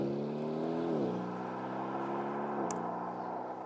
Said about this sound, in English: none of this will really matter once you've fired that glorious engine and heard the inimitable Aston growl